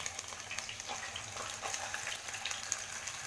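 Chicken pieces hitting hot oil for crispy fried chicken, producing a soft, continuous crackling sizzle with faint bubbling, fairly quiet and steady throughout.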